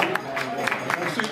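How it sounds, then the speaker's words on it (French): Scattered applause from a small crowd at a classic car rally awards gathering, a short spell of light rhythmic clapping at moderate distance with voices murmuring underneath. "On peut les applaudir."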